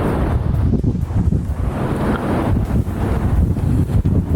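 Strong wind batters the microphone in a steady, loud rush, with the broad roar of rough, white-capped ocean surf on the Cancun coast blended underneath.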